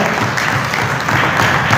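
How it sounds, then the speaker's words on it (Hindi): An audience at a Lions Club region conference and award ceremony claps loudly and steadily for a district trustee, with thick, sustained applause throughout. "इनके लिए जोरदार तालियां"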